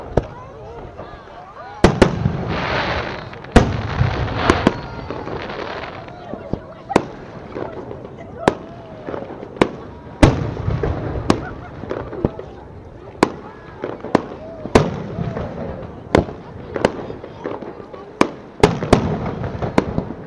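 Fireworks at the Fêtes des Vendanges grape harvest feast in Sainte-Maxime, with sharp, loud bangs and crackling bursts popping at irregular intervals, some in quick clusters, over a steady crowd murmur and occasional voices.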